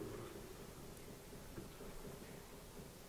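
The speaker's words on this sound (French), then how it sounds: "ce bruit que vous entendez de boum boum boum boum boum, ce n'est que de l'eau." Rainwater running through the drainpipes of an old abbey gives faint, dull booms over a steady wash of rain, all distant and low in level.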